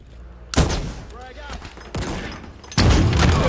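A rocket launcher fires in Halo Infinite multiplayer during a Fracture Tenrai Fiesta match. Three loud blasts, each with a roaring rumble, come about a second apart over constant gunfire, and a voice talks underneath.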